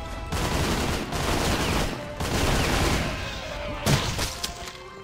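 Heavy weapon fire in Painkiller: Hell and Damnation, with loud, dense bursts of rapid shots separated by brief gaps, a sharper punchy blast near the end, close and dominant throughout.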